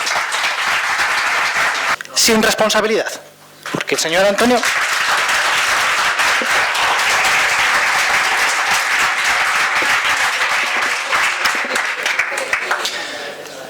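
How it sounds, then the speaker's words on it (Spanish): Members of the public applaud, interrupting a municipal council plenary session in Castilla y León: loud sustained clapping across the room, briefly broken by someone speaking, then resuming strongly and tapering at the end. "el público interrumpió con aplausos o burlas, dependiendo de quién hablara"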